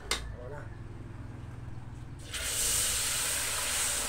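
Coconut milk hits hot melted sugar in a pan with a sudden loud, steady sizzling hiss that rises partway through and keeps going, over low background rumble.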